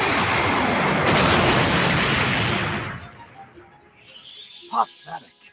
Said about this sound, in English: Pellet gun, fire!